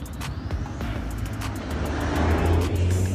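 Emergency service vehicles drive past one after another on a road, a continuous loud rush of engines and tyres swelling as each one passes close by.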